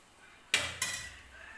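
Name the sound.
lid placed on a pan of cooking raw mango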